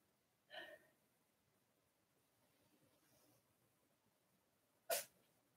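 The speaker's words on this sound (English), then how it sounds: "The kittens have got sneezes." Two small sneezes from a kitten, the first sharp and near, a faint second one a few seconds later, in an otherwise quiet room.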